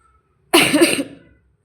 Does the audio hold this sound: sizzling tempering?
no